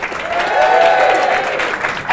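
A live studio audience in Manchester applauds guests seated along a table: a dense, steady wash of clapping that holds at full strength for the whole stretch, with a faint voice running through it.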